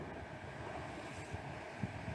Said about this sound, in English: right now we're dealing with some of the strongest winds that are offshore here from the northwest at about 30 knots or so